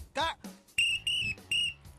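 A coach's whistle blown in three sharp, shrill blasts at a steady rhythm, close and loud, after a brief vocal sound at the start.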